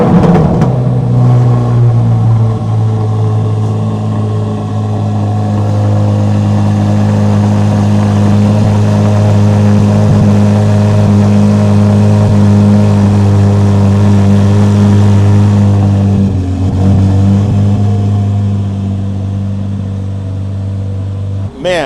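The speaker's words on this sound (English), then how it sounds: "Let's hear this thing in cold start." A Chevrolet Corvette C8 Z06 fires up from cold and settles into a loud, steady high idle with a strong low droning hum close by, easing slightly toward the end.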